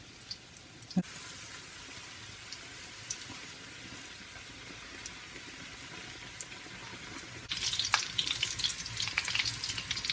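Congolese choux pastry dough fries in hot oil with a steady, crackling sizzle that swells louder and busier toward the end as the pieces are turned, with a few light utensil taps.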